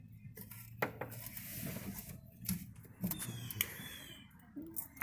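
A wrench torques down bolts on a 1977 Mercury Marquis 400M engine, making faint metallic clicks, taps and ratcheting clinks spread irregularly over a low background hum.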